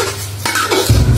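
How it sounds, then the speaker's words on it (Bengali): Rice and lentils stirred in a pot with spices, a short close scrape of a spoon against the pot over a low background, with no voice. "এখন দিয়ে দিব চাল আর ডালগুলো দিয়ে লাড়তে থাকবো"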